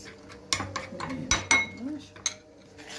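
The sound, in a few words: stirring the shrimp mixture together in a bowl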